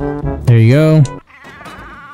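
A goat bleats loudly and close in the Skull and Bones video game, one drawn-out wavering cry, with someone speaking briefly before it and a noisy texture after.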